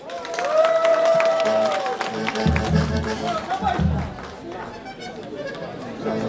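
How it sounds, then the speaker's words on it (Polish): Audience applause greets a folk band at a dance event near Radom, a broad wash of clapping and crowd noise that rises after a stringed tone and carries on under talk and band sounds. "Gorące brawa!"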